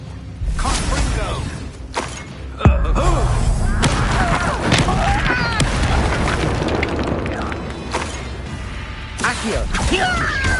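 Confringo fire spell in the PlayStation 5 game Hogwarts Legacy, a sharp booming blast followed by rumbling explosions and whooshing spell effects amid loud combat noise, with voices calling out over the din.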